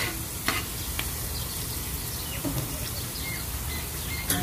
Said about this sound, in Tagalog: Pwede na po natin ilagay yung ating bawang.